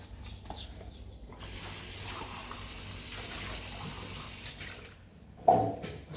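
Hot tap water runs steadily into a sink while dishes are washed, a broad hiss that starts after a short pause and flows for several seconds before a clatter and splash near the end.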